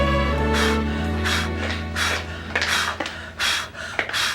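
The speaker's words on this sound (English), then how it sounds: "I'm doing my Lamaze breathing." Rhythmic, forceful breaths repeat in short bursts over a steady musical background, each exhale a breathy rush, about six in a row.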